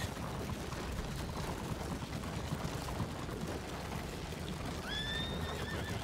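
A horse whinnies briefly near the end over a constant rumbling background of noise and hoofbeat-like clatter, in the video game Red Dead Redemption 2.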